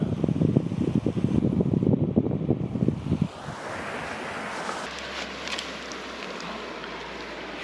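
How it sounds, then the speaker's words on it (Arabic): A river rushing through a mountain valley in the Kurdistan region of Iraq, a steady broadband wash of flowing water with strong low rumble at first, then thinning to a lighter continuous hiss. "هذا النهر."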